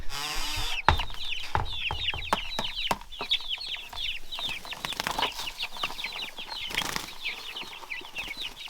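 Young meat chickens on a farm cluck and cheep continuously in a close, busy chorus, with a wing flap or scuffle near the start.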